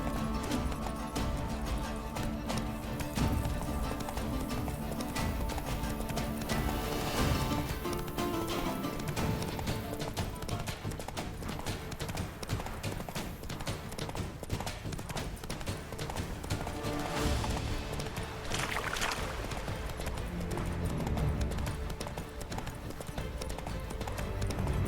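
Horse hooves gallop in The Witcher 3, a fast, steady clip-clop rhythm that carries on throughout with game ambience underneath.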